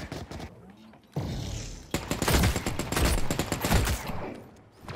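Rapid bursts of automatic gunfire and heavy fusillade in the shooter game The Cycle, loud and close, with dense overlapping shots building through the middle and trailing off, while a player's voice is faintly present.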